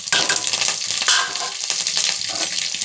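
Cumin, mustard seeds, curry leaves and slit green chilies crackle and sizzle in hot oil in a pan while a spoon stirs them, with scraping strokes over a steady close fry.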